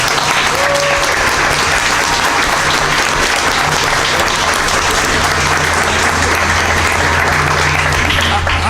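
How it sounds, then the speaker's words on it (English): Loud, sustained clapping from the audience at a Rutherford school board meeting honoring Bergen County choir students, a dense, even wash with a faint steady hum beneath it. "a round of applause for them"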